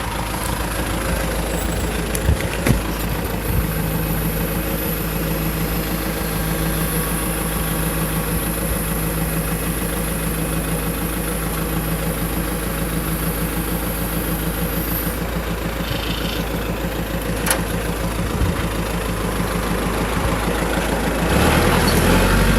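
A forklift engine idles steadily and loudly for the whole stretch, a constant mid-pitched rumble with slight vibration, while a greenhouse bed base is being moved on the forks.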